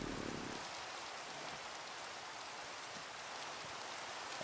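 Rain falls in the video game Minecraft, a soft, even hiss of patter that continues quietly throughout with no voices over it.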